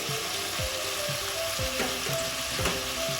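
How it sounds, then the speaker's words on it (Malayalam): A cup of onion frying in a pan with oil, a loud dense sizzle with quick stirring scrapes repeating every half second or so, heard close up and with no talking. "ഇനി ഇതിലേക്ക് ഒരു കപ്പ് ഉള്ളി ഇട്ട് കൊടുക്കാം."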